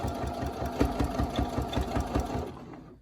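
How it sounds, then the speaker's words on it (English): A sewing machine slowly stitching fabric for a cloth face mask, a steady rhythmic mechanical hum with regular needle thumps that winds down and stops at the end, close-up and without talk. "you're gonna put this down and you're gonna slowly sew"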